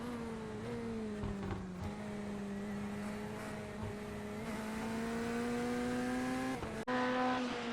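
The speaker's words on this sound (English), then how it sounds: "We can see Lewis pulling out of the pits and maintaining his lead on Sam Buck." Race cars drive in a sim racing video game at Imola, a steady engine drone with gear-change pitch shifts and a brief tyre squeal, continuous and moderately loud, with no talk.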